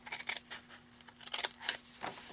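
Scissors snipping through card stock for a handmade step ladder card, a few short crisp cuts spaced irregularly, close and fairly quiet with a faint steady hum underneath.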